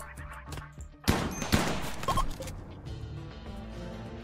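Turret gunfire in the Rimworld video game, a burst of sharp shots clustered around the middle with a couple of loud reports, then fading into quieter game ambience and music.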